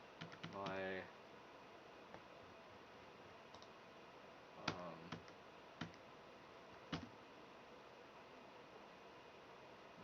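Faint computer mouse clicks, a few sparse sharp ticks spread through a quiet stretch with low background hiss and a brief muffled voice near the start.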